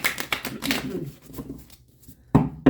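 Tarot cards are riffled and shuffled by hand in quick papery bursts, close to the microphone, with a final couple of sharp snaps as the deck is squared; a voice talks over the shuffling.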